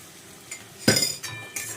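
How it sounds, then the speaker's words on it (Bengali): Cashew, melon seed and poppy seed paste going into a pan of fried spices for a vegetarian shahi capsicum paneer, with a few close clinks and scrapes of a utensil against the pan and a soft stir, no talking. "এবারে আমি কাজু বাদাম, চারমগজ আর পোস্তর যে পেস্টটা বানিয়েছি সেটার মধ্যে দিয়ে দিচ্ছি।"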